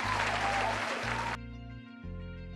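Short burst of applause used as a sound effect, a dense clapping wash that cuts off abruptly partway through over a steady low musical tone.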